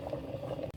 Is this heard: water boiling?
yes